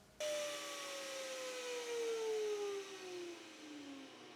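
A new high-speed 3D printer lays down infill at fast travel speeds, giving a steady whirring hum with a thin motor whine that slowly slides lower in pitch, close and fairly quiet.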